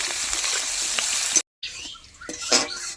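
Chopped onions sizzle and fry in oil in a pan on a home stove, a steady bright crackle broken by a short silence, then stirring scrapes and renewed sizzling.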